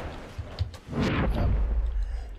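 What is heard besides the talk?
incoming tank shell whistling overhead in War Thunder video game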